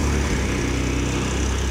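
A Ford F150 EcoBoost V6 truck engine runs steadily and loudly at close range, a dense continuous rumble with an even low drone and no break.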